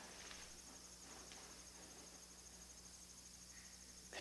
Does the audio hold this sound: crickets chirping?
yes